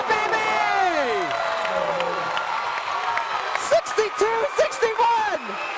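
Home crowd at a SAGU versus Langston men's college basketball game cheering and applauding in a close late-game moment, a broad roar under an excited commentator's voice, with whoops and surges building toward the end.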